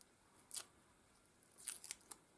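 A few quiet, crisp snips of scissors, one early and a quick cluster near the end, heard alone against a near-silent background.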